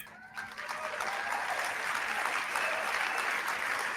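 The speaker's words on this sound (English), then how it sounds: "And the audience claps again." An audience applauding at a CPAC 2025 speech in Washington, DC: sustained dense clapping that swells quickly and holds steady to the end.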